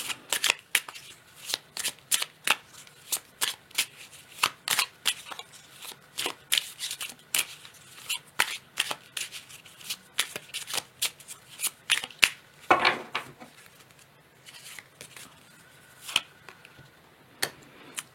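A deck of oracle cards is shuffled by hand over and over, producing a steady run of sharp, close riffles and taps, with a brief softer stretch near the end.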